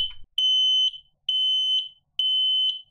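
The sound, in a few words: smoke alarm test beeping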